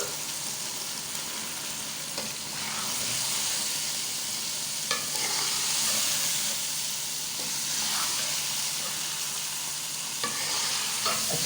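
Lobia lentils are stirred into hot frying masala, giving a loud steady sizzle and hiss with scraping spoon strokes at intervals, close up and without voices.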